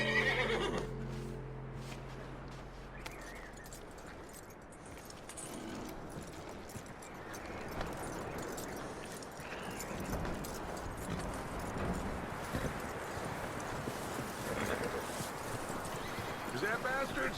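In the video game Red Dead Redemption 2, hooves clop steadily on the ground and a horse whinnies, while people talk over the scene.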